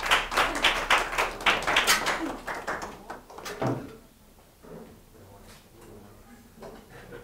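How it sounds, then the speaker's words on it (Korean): A small class audience at a service design presentation claps in a brief burst for a team, fading after a few seconds into quiet room noise and soft knocks. "토마토라면 박수 한번 쳐주시고"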